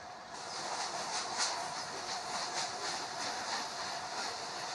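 A moving train rolls along with a steady roar and hiss, wheels giving a faint rhythmic clickety-clack throughout, heard from inside and fairly close, with no talking.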